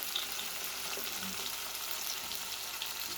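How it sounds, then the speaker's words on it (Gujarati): Masala frying and being stirred in a pan for vegetable fried rice, a steady close sizzle with faint scraping, continuous and even throughout with no talking. "મિત્રો થોડી વાર આપણે મસાલાને આ રીતે ચલાવીશું"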